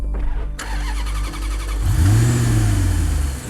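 A car engine starts up and revs, then settles into a steady running drone as the car pulls away. It is close and loud, with no voices over it.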